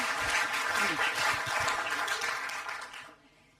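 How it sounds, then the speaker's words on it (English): Audience applause at an industry talk on data collaboration, a steady wash of clapping from a crowd that holds for about three seconds and then cuts off sharply. "can you give Emmanuelle a big round of applause?"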